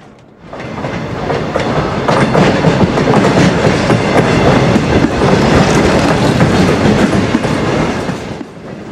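Amtrak Silver Star passenger train hauling intermodal truck trailers on the back, recorded around Jacksonville on CSX rails, rumbles loudly and steadily past with continuous clickety-clack of wheels over rail joints.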